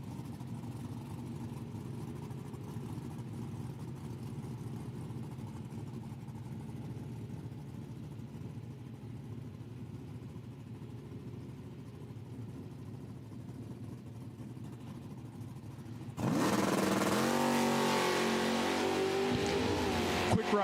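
A 2000 Camaro drag race car idles in the left lane at an IHRA Outlaw Nitro Pro Am qualifying event with a steady, distant engine rumble. Near the end it suddenly roars into a loud, rising launch.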